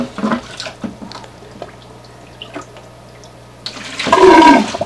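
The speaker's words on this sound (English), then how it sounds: "drop the Python in there, angle it upwards, raise it up, start that water flow" Water starts to rush through a Python aquarium siphon hose into a bucket during a tank water change, a few soft splashes and handling knocks giving way to a louder, close gushing flow at the end.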